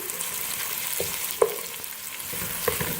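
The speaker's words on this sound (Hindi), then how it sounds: "2 बड़े साइज के मैंने प्याज शामिल कर दिए हैं। इसको हल्का सा फ्राई करेंगे।" Onions frying in a pan for aloo gobhi give a steady, low sizzle with occasional soft pops and a light stir as they turn light golden brown, no talking.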